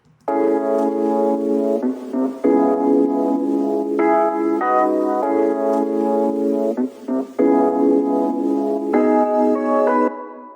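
Dry and reverb-processed signals of a sustained, bell-like synth tone blended together, playing a series of long held chords that change every second or two, steady and fairly loud with no talking.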